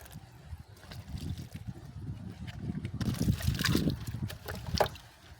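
Water splashing and trickling onto potted plants in a rooftop garden, a steady run of soft pours and drips that grows fuller in the second half, with no talking.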